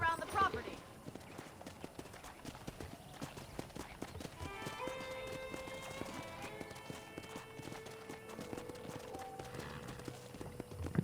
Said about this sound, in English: Mount your new horse,